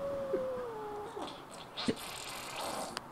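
A cat yowls in a few drawn-out wavering cries alone, with a sharp thump partway through and soft room noise between.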